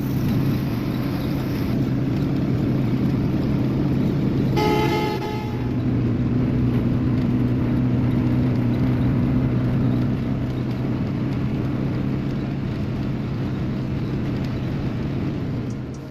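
A steady, loud low engine drone rumbles from inside a moving Hino AK bus on the road to Gopalganj, with a short horn blast partway through, then the drone continues evenly.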